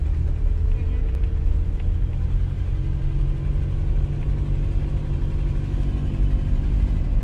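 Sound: car engine while driving, shifting gears

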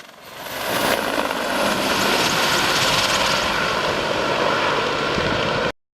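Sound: military helicopters and bomber aircraft during naval landing exercise

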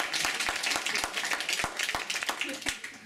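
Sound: applause for Vincenzo Paulino

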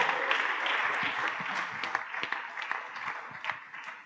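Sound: audience applause and clapping

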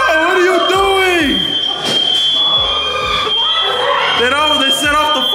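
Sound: fire alarm going off

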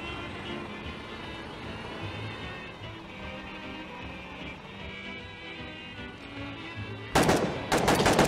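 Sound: gunfire in video game

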